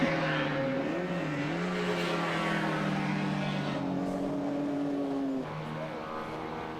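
Historic racing cars, including breadvan-bodied cars, lap the track at Goodwood in the Moss Trophy race; a continuous engine roar rises and falls in pitch as the cars power past, loud and sustained.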